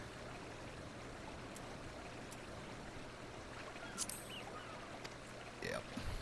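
Steady broadband wash of flowing river water in a Final Fantasy XIV game scene, continuous and soft, with a few faint chirps and a brief tonal sweep near the end.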